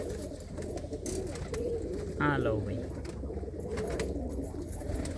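Pigeons coo in a loft or coop, one low throaty call standing out briefly amid a busy background of other birds and murmured voices, with someone speaking over parts of it.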